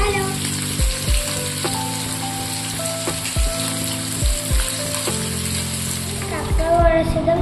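Fish fries in a pan with a continuous close sizzle and crackle, heard under a voice and tonal background sound that run over it throughout.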